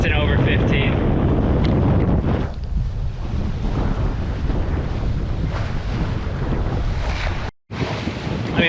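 Wind blowing across a sailboat under sail on the Bras d'Or Lakes, Nova Scotia, with the Jenny reefed in a breeze over 15 knots: steady, loud rushing buffet on the microphone with water wash, briefly cutting out near the end.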